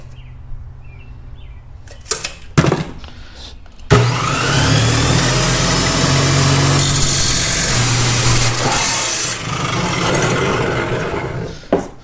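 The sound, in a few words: Dremel rotary tool cutting turbo piping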